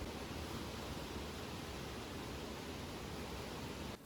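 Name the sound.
waterfall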